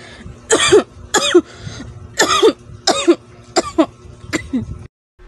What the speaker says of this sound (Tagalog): Kunting ubo lang.